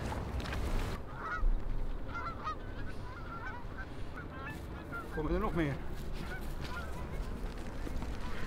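Geese honking at a distance in open country, a few scattered calls rising over a windy background while someone speaks nearby.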